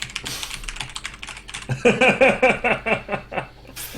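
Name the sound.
typing on computer keyboard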